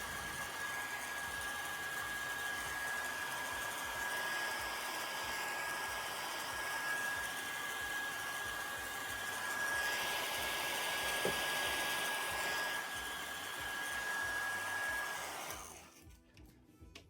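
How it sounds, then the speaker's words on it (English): Hair dryer on a cool setting drying lace wig glue during a lace wig install, a steady continuous whooshing hum running for about fifteen seconds before cutting off. "anytime you're molding your edges down or drying your lace glue to use a cool setting or your blow dryer"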